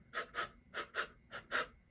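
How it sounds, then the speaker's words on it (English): Six short, sharp panting breaths for a flute air exercise, evenly spaced in quick pairs, close and fairly soft, with no talking between them. "it's a little bit like panting"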